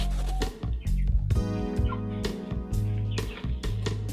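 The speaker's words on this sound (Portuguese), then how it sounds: "Esse é o galinheiro." Chickens inside a coop cluck and squawk up close in a short, busy burst of overlapping bird calls.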